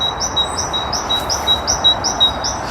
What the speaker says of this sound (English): Somewhere in this tree there's a, sounds like a blackbird, isn't it?